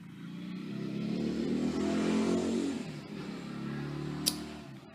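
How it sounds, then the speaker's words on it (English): A motorcycle engine drones past, rising to a loud peak mid-clip and fading away, with a brief sharp click near the end. "sorry about the motorcycle"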